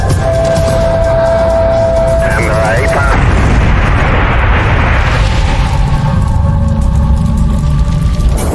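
An X-31 experimental aircraft crashes and explodes, a loud sustained booming rumble with roaring broadband noise, heard amid dramatic music or sound effects.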